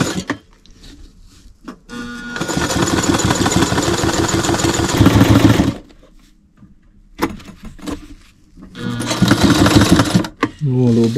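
A 1969 sewing machine powered by solar energy stitches in two loud, close bursts of rapid whirring and clatter separated by a pause, with quieter handling noises between runs.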